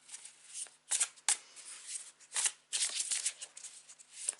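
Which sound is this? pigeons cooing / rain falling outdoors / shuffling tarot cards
shuffling tarot cards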